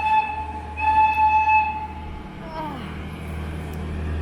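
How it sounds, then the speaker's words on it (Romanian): A little tourist train heading to Comanca Monastery near Olanesti, Romania, sounds a sustained tonal horn, then rumbles along steadily at moderate distance under a low outdoor drone. "Super bine trenulețul."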